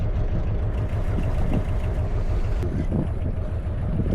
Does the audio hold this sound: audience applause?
no